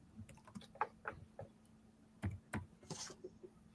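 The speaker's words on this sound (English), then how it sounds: "Oh, you typing them up?" Someone typing on a computer keyboard indoors, soft irregular key clicks in short clusters with pauses, fairly quiet and close, no talk over it.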